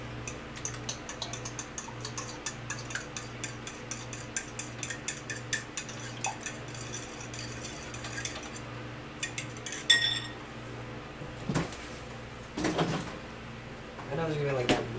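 A utensil stirs milk into a French toast mixture in a bowl, giving a steady run of light, rapid clicking and scraping taps close by, with a low hum and a few louder knocks of dishes near the end.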